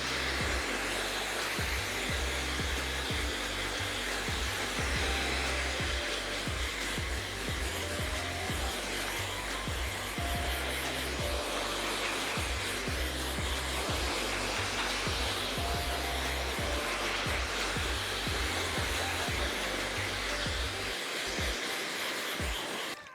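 A hair dryer blows continuously during a salon-style 90s blowout, a steady loud roar up close that holds for over twenty seconds before stopping near the end, with no talking.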